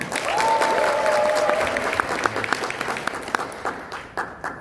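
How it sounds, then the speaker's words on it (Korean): Applause from an audience as a speaker comes on stage at a talk on tariff policy and blockchain, dense at first, then thinning into scattered claps, with a brief tonal whistle-like sound early on. "우리 오프로님 무대 위로 모실 때 큰 박수 부탁드립니다."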